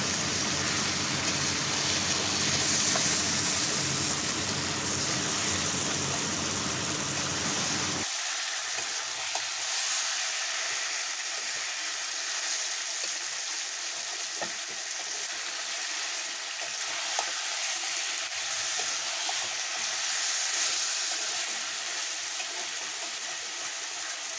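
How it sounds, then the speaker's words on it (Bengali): Chicken stir-fried in a pan for a red chicken curry, a steady loud sizzle with scraping stirs throughout, its low rumble dropping away partway while the hiss continues alone. "নাড়াতাড়া করে ভালো করে কষতে থাকবো"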